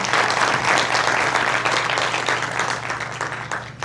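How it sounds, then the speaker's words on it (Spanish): Sustained applause from a crowd, dense and fairly loud, fading slightly toward the end. "el aplauso es para ustedes"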